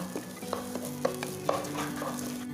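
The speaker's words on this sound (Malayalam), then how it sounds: "ആ റൈസ് തമ്മിലൊന്ന് ജസ്റ്റ് വിട്ട് കിട്ടുന്നത് വരെ ഒന്ന് ജസ്റ്റ് ഒന്ന് ഫ്രൈ ചെയ്തെടുക്കാം" Rice being stir-fried in a pan until the grains separate, with a steady soft sizzle and repeated scraping stirs of a utensil, close and fairly quiet, with no talking.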